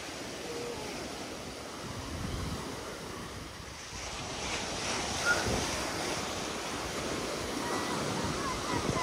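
Continuous surf washes and crashes with wind buffeting the microphone, a steady outdoor roar that swells slightly in the second half, at a beach in Adler, Russia.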